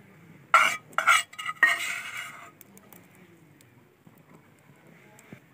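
Roasted gram flour stirred into a chicken mixture in a pan for tikka burgers, heard as three quick bursts of loud spoon scraping and clatter against metal, then fading to faint occasional scrapes and a low sizzle.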